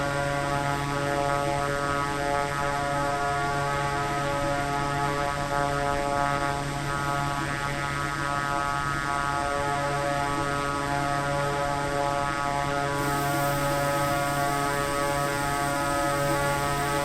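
Steady, droning hum of a King Air turboprop engine in Microsoft Flight Simulator 2024, continuous and even with a constant propeller whine, no talk.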